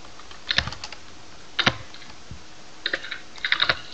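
Typing of commands on a computer keyboard while working on a Minecraft server, with short bursts of crisp, close key clicks separated by brief pauses.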